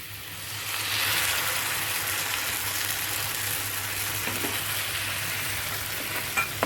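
Paste of eight to ten cashews going into hot oil in a pan for methi chicken, a loud broad sizzle that flares up and then keeps frying steadily, with faint stirring scrapes.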